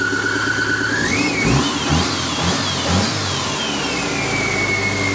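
A Subaru AAR engine runs steadily, rising briefly as it revs, with a thin high squeal gliding up and down above the motor, close and fairly loud with no talk.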